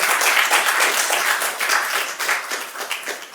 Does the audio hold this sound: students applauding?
yes